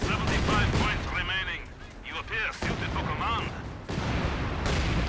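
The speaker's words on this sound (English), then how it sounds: "Some light artillery dropping on this 17 pounder, but not enough to get the kill" Light artillery shells drop around a 17 pounder anti-tank gun in Company of Heroes 2, with booming impacts and sharp blasts amid chaotic battle noise, while a voice talks over the top.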